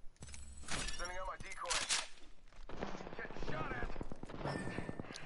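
Video-game gunfire during a battle royale match: rapid bursts of shots crackle in quick succession over a dense mix of game effects, fairly loud and busy throughout, with a voice talking over part of it.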